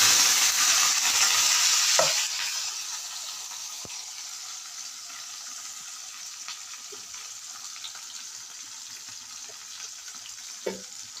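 Fennel seeds, chopped onion and tomato fry in a pan with a loud steady sizzle that eases after the first couple of seconds, punctuated by occasional stirring scrapes and clinks, no voices.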